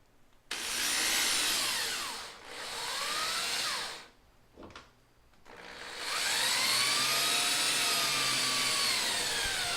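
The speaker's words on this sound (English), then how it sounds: "Here I finally realize that I can use the screwdriver drill bit" Power drill fitted with a screwdriver bit driving screws into a wooden dance pad, several whining bursts that rise and dip in pitch with short pauses between, loud and close with no voices.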